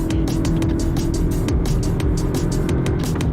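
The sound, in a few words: Lexus car accelerating in sport mode after downshift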